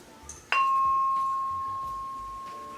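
A single struck wilah (metal bar) of a Cirebon gamelan sounds in the pelog laras scale: one clear, bright tone rings out and decays slowly, with a softer second strike near the end, close and alone.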